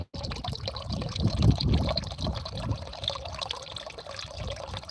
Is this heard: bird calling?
no